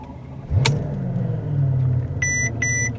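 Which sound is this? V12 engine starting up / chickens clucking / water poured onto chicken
V12 engine starting up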